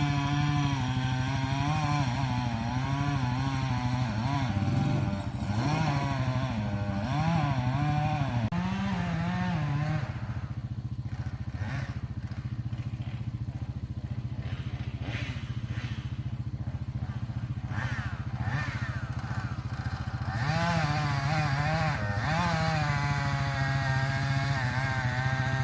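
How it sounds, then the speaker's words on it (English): Chainsaw cutting down trees in a backyard, a steady buzzing engine drone heard from some distance that rises and falls in pitch as it revs, running continuously for the whole stretch. "you hear the chainsaw go."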